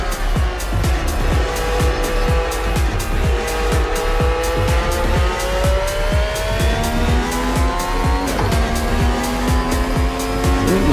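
Formula racing car lapping a track, its engine loud and near with rising and falling revs, sharp repeated gear-shift changes and a steady buzzing drone across the whole stretch, with no voices.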